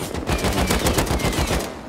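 Rapid automatic gunfire in the survival game Rust, a loud, close, unbroken burst of fast shots lasting nearly two seconds.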